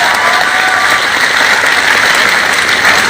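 Steady, dense applause from a seminar audience at a business training session, loud and continuous throughout with no talk over it.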